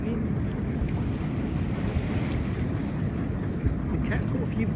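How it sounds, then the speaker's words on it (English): Steady wind-buffeted rumble of a ferry approaching across open water along the Sussex or Dorset coast, a continuous low drone with microphone wind noise and no clear speech. "Ferry coming in."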